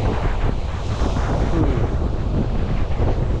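Strong wind roars steadily across a microphone at Sakibaru beach on a dog camping trip, a constant buffeting rumble with faint surf beneath and no voices.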